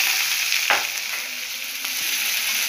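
Crushed onion, ginger and garlic frying in a pan, giving a loud, continuous hissing sizzle up close with a couple of faint utensil knocks and no voices.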